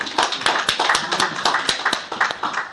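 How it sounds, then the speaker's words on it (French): A church congregation claps in a quick, fairly regular rhythm, each clap sharp and close, keeping a steady beat for a couple of seconds with no voices over it. "Applaudissons pour la sœur."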